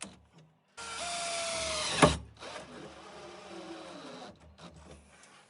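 A power driver runs tech screws into metal plates on a Land Rover Defender, a whirring buzz rising in pitch and ending in a sharp clack, then quieter clattering and handling.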